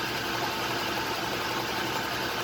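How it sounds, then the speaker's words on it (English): 1966 Frigidaire Rollermatic washing machine with two-speed motor spinning a load of towels at high speed, a dense continuous whirring hum, steady and fairly loud with no voices. "it'll put the high-speed roller on, and it makes it spin even faster"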